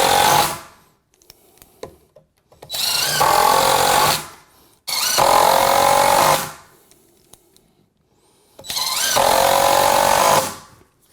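Power drill driving screws into wood for a rustic ceiling woodwork project, in three loud, sustained bursts of whirring with short pauses between them.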